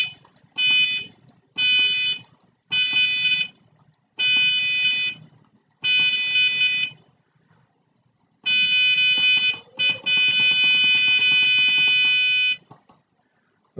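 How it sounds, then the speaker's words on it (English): A programmed electronic buzzer set to 500 hertz sounds a run of short, evenly spaced buzzes, then two longer sustained tones, each starting and stopping sharply in an otherwise quiet room. "So when we push the right button down, we turn the buzzer off. That's the short buzz."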